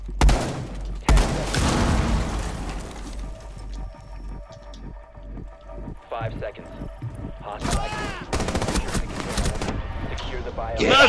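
Sharp gunshots and bursts of fire from an Xbox shooter game, several loud reports scattered through the stretch, with excited voices talking and shouting over them.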